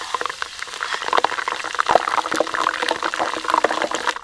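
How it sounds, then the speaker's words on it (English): Lemongrass frying in hot oil for Thai fried chicken, a steady close sizzle with irregular crackles and pops, no talk. "Now I have to fry the lemongrass."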